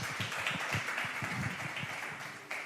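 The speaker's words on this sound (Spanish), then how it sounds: "Denle un aplauso al Señor para empezar este tiempo." An audience claps steadily at a church youth gathering, a continuous crowd of hands at moderate volume with no talk over it.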